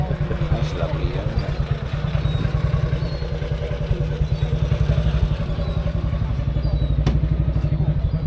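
A BMW R1200GS motorcycle engine idles steadily with a loud, continuous low throbbing pulse close by, while people talk over it.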